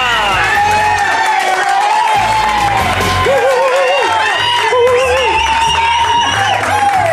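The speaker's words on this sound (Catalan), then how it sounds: "Senyores i senyors, equip, prepareu-vos per un fort aplaudiment" Audience at a Catalan TV show greeting guest Juan Antonio Bayona, loud whooping, cheering and shouting over steady music, with voices calling out across the noise throughout.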